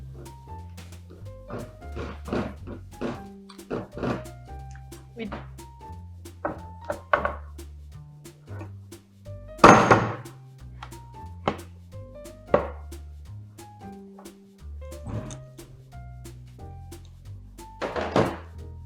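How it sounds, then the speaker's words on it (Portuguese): A knife works a loaf of homemade bread loose from its baking pan, producing a series of irregular knocks, scrapes and metallic thunks up close over about twenty seconds. "Vou soltar ele com a faca."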